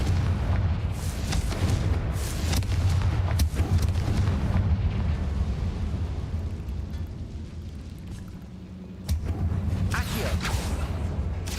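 The Confringo blasting curse goes off in the Hogwarts Legacy video game as a deep, rumbling boom, loud and sustained, with debris crackle and a second low blast near the end.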